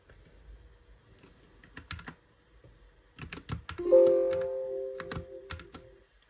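Brief bursts of computer keyboard typing, close and clicky, with a sustained electronic tone sounding partway through.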